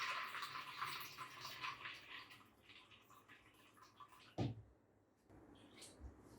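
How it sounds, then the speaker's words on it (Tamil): Boiling water is poured into a vessel of soaked chickpeas, giving a steady splashing wash in the first four seconds, then a sharp knock, a short quiet gap and a few faint clatters near the end. "அந்த தண்ணியை நல்லா கொதிக்க இருக்கிற தண்ணியை இந்த மாதிரி ஃபுல்லாக ஊற்றிடலாம்"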